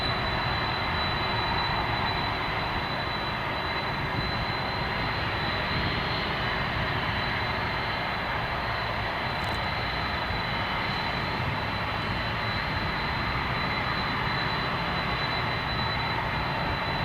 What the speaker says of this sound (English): We might see this 747 taxi all the way around here.